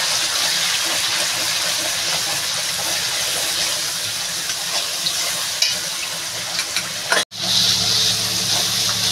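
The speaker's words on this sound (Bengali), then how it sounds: "এবার আমি এটা ভালো করে একটু ভেজে নেব।" Ground coriander and cumin fry in a hot pan, giving a continuous loud sizzling hiss with faint stirring scrapes and one sharp knock near the end.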